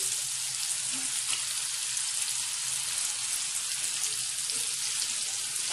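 A ground paste of onion, coconut and sesame frying with chilli powder for a spicy mutton curry gives a steady, even sizzle close by, with no talk over it.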